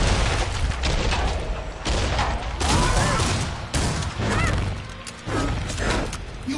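Sustained heavy weapon barrage in Killing Floor 2, dense loud bursts and crashing impacts pounding continuously with brief lulls, no talk over it.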